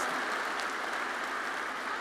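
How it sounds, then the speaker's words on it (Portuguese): Church congregation applauding during a Sunday Mass, a steady, dense wash of many hands clapping together, continuous and moderately loud throughout. "Uma salva de palmas a todos nós que viemos"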